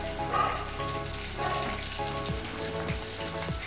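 Prawns sizzle and crackle steadily as they fry in oil to a golden brown, a continuous close hiss with small pops and a few faint utensil scrapes, no voices.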